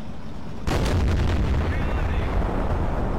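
Artillery fires in a video game: a single sudden, loud blast followed by a long, rolling rumble that fills the rest of the moment.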